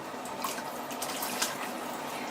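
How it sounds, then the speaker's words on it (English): Tap water splashes and trickles into an empty tin that held tomatoes, rinsing it out in a home kitchen, a steady faint hiss with a few brighter splashes. "Maybe give that a wee rinse out."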